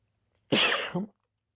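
A single human sneeze bursts out close and loud, a short breath catch, then a sharp burst with a brief trailing tail, otherwise quiet.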